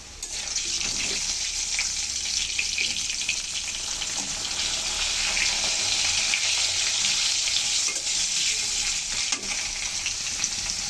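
Fish heads and lightly browned potatoes fry in hot oil, giving a steady, close, loud sizzle with faint scraping from stirring throughout, and no voices.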